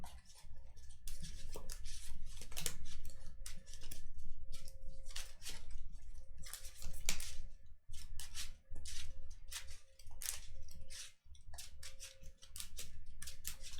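Cards from a KeyForge deck riffle and slap together in quick bursts during a tournament match, a crisp papery patter repeating across the table with a faint hum beneath.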